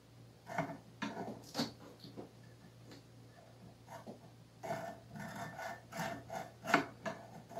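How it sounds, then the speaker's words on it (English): A nut file rasping in the nut slot of a guitar during setup, heard as short, close scraping strokes in uneven bursts with brief pauses between them, and no voices. "You take your nut file and you just go right over the top of it"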